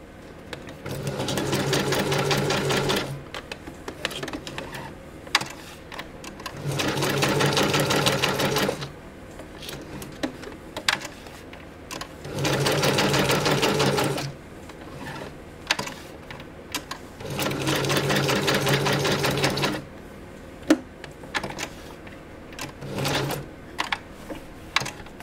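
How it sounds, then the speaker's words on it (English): A sewing machine running a straight stitch on scrap fabric, whirring in four separate runs of a few seconds each, with quiet pauses and small clicks and handling noises between them. "Looks like I'm on straight stitch"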